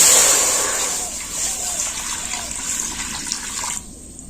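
Water pours into a pan to be brought to a boil for pasta: a loud, steady splashing gush that fills the pan and then cuts off abruptly near the end.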